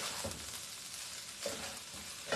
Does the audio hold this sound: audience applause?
no